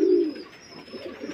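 A pigeon gives a short, soft coo near the start, followed by quieter murmuring coos from a nearby flock.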